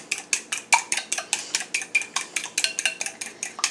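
Two eggs beaten with butter in a bowl, quick steady clinking strokes of utensil against the bowl, close and brisk, with no voices.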